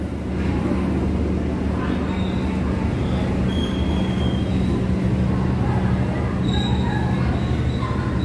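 The Motis train, made up of baggage cars and passenger cars, rumbles past steadily at close range, with continuous wheel noise, clattering and faint squeals over a low, constant roar.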